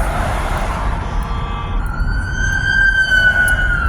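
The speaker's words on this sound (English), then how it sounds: "There's an ambulance coming by" An ambulance siren wails steadily over loud road rumble heard from inside a moving car, its tone holding and growing slightly louder as the vehicle draws nearer.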